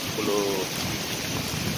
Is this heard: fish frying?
no